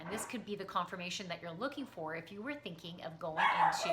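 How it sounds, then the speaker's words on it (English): Dogs bark and yip in the background while someone speaks over them, with the barking growing louder near the end. "Sorry about the dogs barking."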